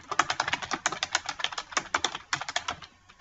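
Rapid, steady typing on a computer keyboard, close and crisp, with dense clicking keystrokes and a brief pause near the end, no voices.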